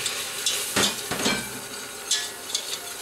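Flour goes into melting butter in a hot pan for a roux, giving a soft sizzle with a few stirring and utensil clinks against the pan, fairly quiet and close.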